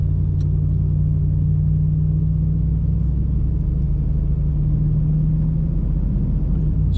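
A Kubota tractor fitted with grapple bucket, tooth bucket and stump grinder attachments runs at a steady idle, a close, constant diesel rumble with no voices.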